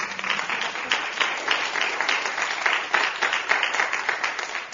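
A seated audience at a talk on art and ecology breaks into brisk, full applause, with many hands clapping evenly at close range for several seconds.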